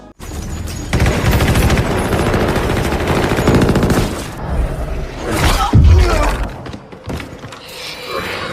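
Heavy weapons fire in a military action film scene: long, loud, dense bursts of automatic gunfire with shattering impacts, ending in a large blast and scattered shots.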